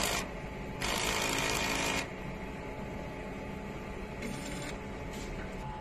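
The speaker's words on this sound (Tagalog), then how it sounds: "Ang DME Ecosolvent machine ay araw-araw ginagamit." A DME eco-solvent printer runs a head-cleaning cycle, giving a steady mechanical whir broken by two louder bursts of hissing, sucking noise near the start and shorter bursts toward the end, with no talking.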